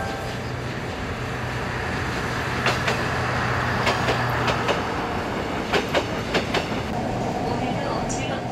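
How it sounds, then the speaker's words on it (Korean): The last train on the Janghang Line, a winding single-track railway, rumbles along steadily with a loud continuous roar, broken by a run of sharp rhythmic clacks from the wheels over rail joints in the latter half. "장항선 마지막 열차는 자정을 넘긴 후 종착역인 익산역에 도착했습니다."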